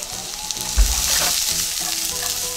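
Bean sprouts stir-fried with onion and garlic in a hot pan give a loud, steady sizzle, with a heavy thump as they are tossed in and scraping stirs throughout.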